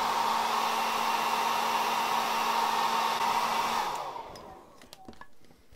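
A hair dryer heating action figure gauntlet pieces, a loud, steady blowing whir with a fixed motor hum that runs for about four seconds, then switches off and winds down, leaving small clicks and handling noises.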